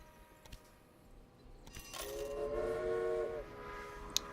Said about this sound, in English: here comes our first corn train for